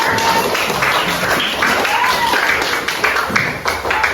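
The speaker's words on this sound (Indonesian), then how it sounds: "Tepuk tangan untuk kelompok Matahari." Children in a grade-four Indonesian science class applaud a student group after its presentation on photosynthesis, giving a dense, steady burst of clapping that fills the room, with a few voices mixed in.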